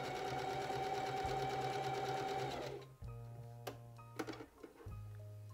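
A home sewing machine stitching darts on a vintage 1960s dress pattern hums steadily for a few seconds, then stops, followed by softer clicks and short bursts of stitching.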